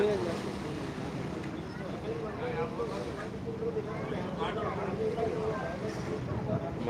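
Sea wind and waves aboard the Ghogha Ro-Ro ferry form a constant broad rush of wind buffeting and water wash, with faint voices talking underneath throughout.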